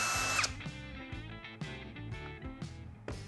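A Procraft 20V cordless drill driver runs close and loud in short, repeated whirring bursts, its motor revving and stopping in a quick rhythmic pattern with no talk.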